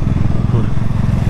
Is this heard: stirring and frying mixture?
no